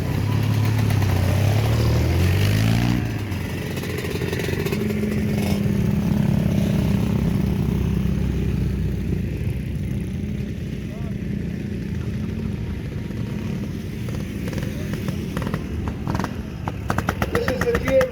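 A vintage James 197 motorcycle engine runs steadily nearby with a low buzzing putter at an outdoor steam and vintage show, while people chat over it.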